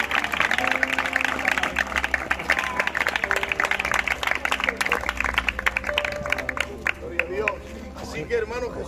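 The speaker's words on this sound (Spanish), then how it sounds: "vamos a dar un fuerte aplauso al Señor" Church congregation at a baptism service applauding loudly and continuously, with music tones and crowd voices mixed under the clapping throughout.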